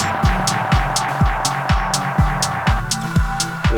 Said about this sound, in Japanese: テープエコー。